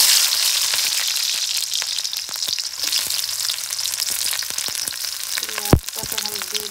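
Onion lightly frying in a pan, a continuous close hiss with scattered crackles and spits, interrupted near the end by a sharp knock of a utensil.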